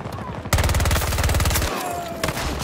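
A Battlefield 2042 gun fires a rapid, close burst of automatic shots after a short quiet start, then stops before a few scattered shots near the end.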